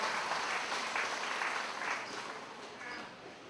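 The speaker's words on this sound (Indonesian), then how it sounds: "Tepuk tangan untuk kedua kader" Sustained applause fills the room at a community mutual-aid event in Sumber Suko district as two long-serving cadres are honoured, a dense, steady crowd clapping that fades slightly toward the end.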